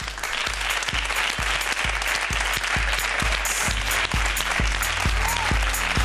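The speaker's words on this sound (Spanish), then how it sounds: "Un aplauso para José Antonio Marina." Steady applause from a studio audience at a masterclass fills the space, with a regular low thump pulsing beneath the clapping throughout.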